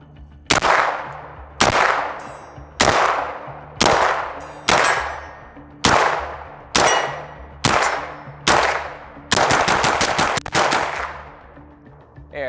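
Shots from a PSA JAKL-9 9mm carbine ring off a steel gong downrange, about nine sharp metallic clangs spaced roughly a second apart, then a fast rapid string of hits near the end, each ringing out with a decaying tail.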